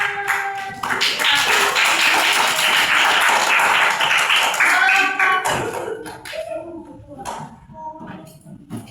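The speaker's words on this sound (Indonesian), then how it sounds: "Silakan beri tepuk tangan." Students in a classroom clap for a group that answered correctly, loud rhythmic applause for about five seconds that breaks off, followed by quieter voices talking.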